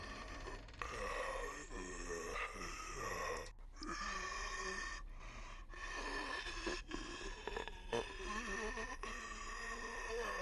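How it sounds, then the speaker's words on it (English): A creature breathes in the horror video game Charon's Staircase, with heavy, groaning breaths and gasps repeating steadily over a dense, continuous game soundscape, faint overall. "I'm hearing breathing like it's meant to be alive."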